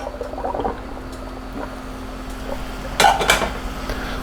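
Cooked penne is drained in a kitchen, with a clatter of a metal pot and a brief splashing pour near the end, preceded by faint handling clinks and quiet background hum.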